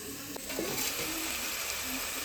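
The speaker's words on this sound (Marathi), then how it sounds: "त्याच्यावर थोडंसं आता मी पाणी ओततोय झाकणावर" Water poured from above onto the lid of a cooking pot in a home kitchen, a steady splashing trickle that runs close and fairly loud for a couple of seconds with a faint sizzle beneath.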